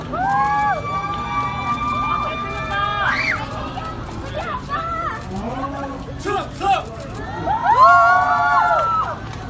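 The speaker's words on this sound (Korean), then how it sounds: "큰 환호와 박수 부탁드리겠습니다" A festival crowd at an outdoor military-base stage cheers with high, excited shrieks and shouts that swell and fall in waves, with crowd noise continuing throughout.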